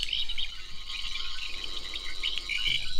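A toy sonic screwdriver emits its third built-in scanning effect, a high chirping electronic warble that pulses and shifts in pitch continuously, close and clear with no talk.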